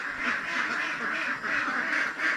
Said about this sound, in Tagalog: Yung mga itik natin dito first batch sa taong 2023